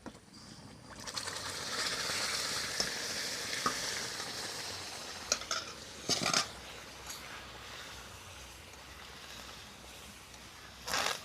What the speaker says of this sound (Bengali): এইবারে এই আমের কাতটা এর মধ্যে দিয়ে দিব।